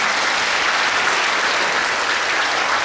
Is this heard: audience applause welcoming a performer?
yes